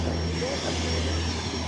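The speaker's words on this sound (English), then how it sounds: "You see they preparing the jets right now." Aircraft engines running steadily at a distance as jets are prepared at an airfield, a continuous broadband roar with a low hum and a faint high whine.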